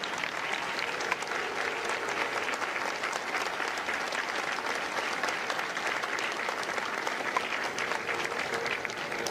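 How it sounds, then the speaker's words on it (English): Sustained, steady audience applause at a Marine Corps recruit graduation in San Diego, many hands clapping loudly and evenly for the full stretch with a faint crowd murmur beneath. "A round of applause for their dedicated service to Corps and country."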